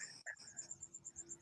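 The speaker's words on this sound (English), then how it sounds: "I hear crickets everywhere." Crickets chirping outside, a faint, steady pulsing trill repeating several times a second, with one brief soft knock early on and no voices.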